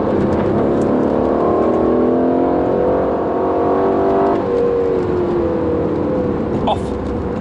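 A 2018 Aston Martin Vantage accelerates hard on a race track. The loud engine note climbs steadily, then drops briefly at a gear change before pulling again, close and continuous throughout.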